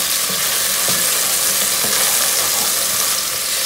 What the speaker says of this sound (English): we're just going to go ahead and give that a stir